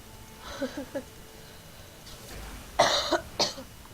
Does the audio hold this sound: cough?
yes